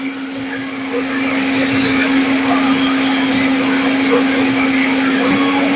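A 1500-watt steel bush blender switches on and runs at high speed, a loud, steady motor whine holding constant after a brief ramp-up.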